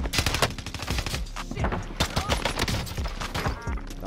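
Rapid bursts of gunfire from akimbo M19 pistols ring out in a Warzone firefight, sharp repeated shots packed closely together with overlapping reports, loud and continuous throughout.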